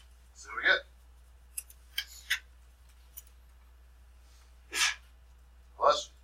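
A sudden sneeze bursts out in a quiet room, short and sharp, followed by a few small clicks and two more brief breathy bursts, close to the microphone.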